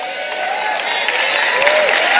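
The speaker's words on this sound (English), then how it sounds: "That's all the tithers that are clapping, by the way" Sermon audience at a church service bursting into clapping and cheering, a dense crowd applause that stays loud and steady throughout.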